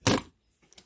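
A set of drum keys jangles in one bright, metallic shake up close, then gives a faint, brief second rattle a moment later.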